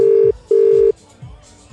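An unanswered phone call rings out with two loud, steady electronic ringback tones, each about a third of a second with a short gap between, followed by quieter room sound.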